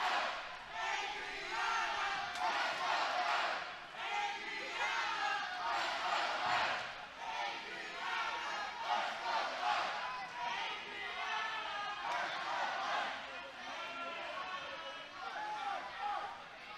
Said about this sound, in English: Listen to this crowd here chanting Adrian.